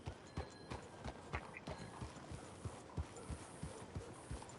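Horse hooves clip-clop in a steady walking rhythm in a video game, each hoofbeat a crisp, evenly spaced knock, fairly close and clear with no voices.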